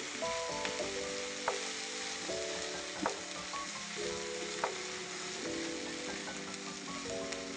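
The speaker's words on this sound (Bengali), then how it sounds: "এখন মশলাটা খুব সুন্দর করে আমি কষিয়ে নেব, একদম ভাজা ভাজা হয়ে আসবে" Spice masala sizzles steadily in an oily pan while being fried down for Bangladeshi chicken pulao, with regular scrapes and clinks of stirring over the continuous crackle.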